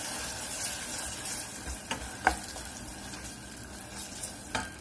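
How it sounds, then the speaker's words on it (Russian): Sesame seeds and grated ginger frying in a pan over medium heat, giving a steady soft sizzle broken by a few scraping stirs and light taps of the utensil against the pan. "Обжариваем на среднем огне, все обжариваем."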